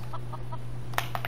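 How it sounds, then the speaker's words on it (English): Chickens in the video game Skyrim give a few soft, short clucks over a steady low hum, ending with a couple of sharper, brighter squawks. "Hey, chickens."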